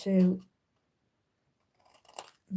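Scissors snip through card stock while a birthday card is made, a short cluster of crisp cuts between bursts of nearby talk.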